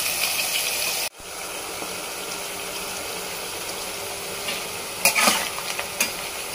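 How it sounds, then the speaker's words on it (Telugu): Bitter gourd frying in a pan for a Telugu-style palya, a steady close sizzle and hiss throughout with a brief break, then a few clattering stirs near the end, no voices. "బ్రౌన్ కలర్ వచ్చే వరకు మనము ఫ్రై చేసుకుంటూ ఉండాలి"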